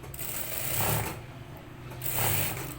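A sewing machine stitches a suit neckline in two short bursts of mechanical whirring, close and moderately quiet, with a pause between them.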